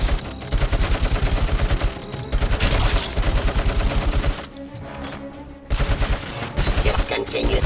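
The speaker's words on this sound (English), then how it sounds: "Is that a 50 cal? It's a heavy machine gun." Heavy .50 cal machine gun fire in Robocop: Rogue City, loud sustained bursts of rapid rattling shots broken by brief pauses, with a short lull before firing resumes.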